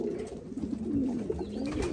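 Hen pigeons in a loft give soft, throaty coos that overlap and repeat close by for a couple of seconds, with no talking.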